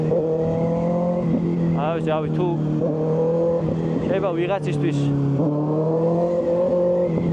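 A Kawasaki ZX6R 636 sport bike hums along in traffic with a steady, low, rising and falling engine drone while someone talks over it.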